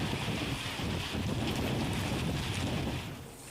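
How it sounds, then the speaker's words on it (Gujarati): Heavy rain driven by strong wind in Gujarat, a dense continuous roar with gusty buffeting that eases slightly near the end, no voices. "ભારે પવન સાથે વરસાદની શરૂઆત"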